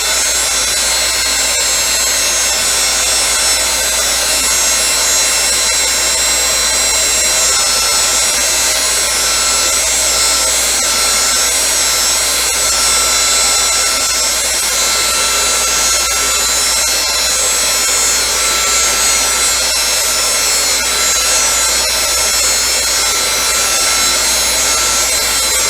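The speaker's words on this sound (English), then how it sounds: "So then I'm going in with my heat tool." A craft heat tool blows hot air over a stamped card in a steady, loud, unbroken hiss and whir that carries on without pause for the whole stretch.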